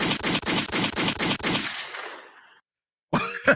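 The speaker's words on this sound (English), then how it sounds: "Make some noise with some gunshots." Rapid bursts of machine-gun style gunshot effects dropped into a song, about eight loud sharp reports in quick rhythm, then a fading echo tail, brief silence, and a sudden loud burst at the end.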